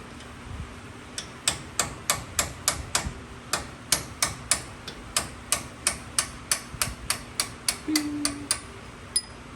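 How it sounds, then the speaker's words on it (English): Hammer blows punch out the brake caliper pins on a Ford Bronco II, a long series of sharp metallic strikes in an irregular but steady rhythm, close and distinct in an otherwise quiet garage. "Let's go ahead and punch these pins out."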